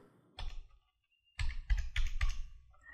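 Someone types a five-digit PIN code on a computer keyboard, giving a single key tap followed by a quick run of four close, crisp keystrokes in a quiet room.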